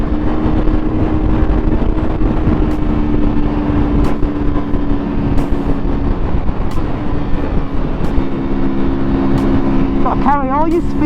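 A Sinnis Terrain 125cc motorcycle engine drones steadily as it climbs a hill under load, loud and close throughout with strong wind rumble, ending in a brief higher whine near the close.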